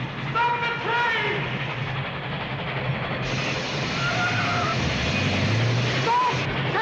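A train in a film scene: a steady, loud rumble of rolling rail cars with whistle-like tones sounding over it, and raised voices mixed into the din.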